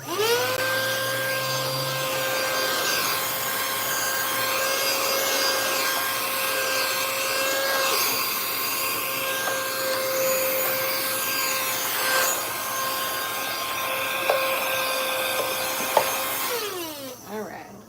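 A vacuum cleaner runs steadily and loudly for the whole stretch with a constant whining motor drone, then winds down at the end, used to clean up dust during a painting project.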